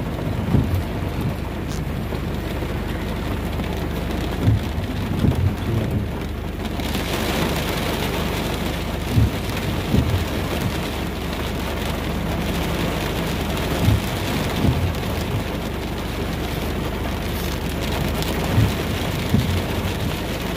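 Heavy rain pours steadily on surfaces with a dense hiss, broken by several low thunder rumbles and cracks through the storm, with no voices.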